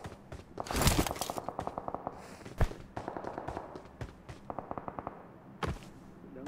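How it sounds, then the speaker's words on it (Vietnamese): Video game gunfire from a battle royale squad match, rapid automatic bursts and single shots rattling in quick repeated volleys, fairly faint and distant, with no talking. "Tiếng súng ở dưới đây."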